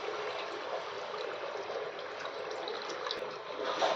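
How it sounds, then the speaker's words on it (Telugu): Tamarind juice pours in a steady, soft trickle into a pot of small-fish curry, a gentle continuous liquid sound at low volume with no talking. "ఫ్రెండ్స్, ఇప్పుడు మనం చేపల పులుసులోకి చింతపండు పులుసు పోసుకుందాము."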